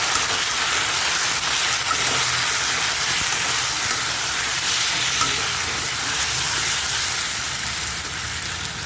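Kashmiri red chili and turmeric powder being stirred into a sizzling masala in a frying pan, a loud continuous hissing fry with spoon scraping, close by and without talk.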